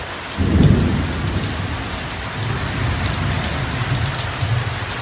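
Heavy rain pours steadily on a surface during a cloudy, windy thunderstorm, with a rumble of thunder swelling near the start and a constant loud hiss continuing throughout.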